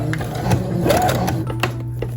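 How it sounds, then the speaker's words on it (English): A sewing machine stitches new elastic into the legs of a vinyl Twist 'n Turn Barbie doll, a close, steady mechanical whir with quick needle clicks. "And you are going to pull taut as you sew."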